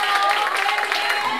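Applause from a crowd at a sweet seventeen birthday celebration, a steady wash of many hands clapping that holds through the whole moment, with voices mixed in.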